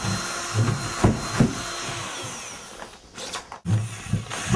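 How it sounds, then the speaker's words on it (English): A power tool whirs steadily with a few bursts of louder grinding, then a brief drop to near silence before the buzzing resumes. "What are you gonna do with that drill?"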